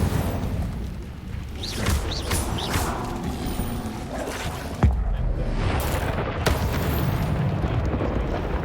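An Incendio fire spell cast in Hogwarts Legacy gives fiery, rushing bursts over steady game ambience, with one sharp boom partway through and a continuous roar afterward.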